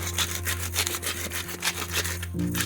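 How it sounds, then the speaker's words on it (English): A salt grinder is twisted over a bowl of flour, giving quick rhythmic rasping crunches close up, with a faint steady hum beneath and no speech. "The first thing we're going to do is just grind some salts into that flour."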